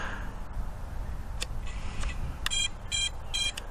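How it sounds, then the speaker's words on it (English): A PatriotBlades Bird 1 drone runs its motor beeper test, giving three short bright electronic beep bursts near the end over a low background rumble, faint and clipped. "motor beeper test"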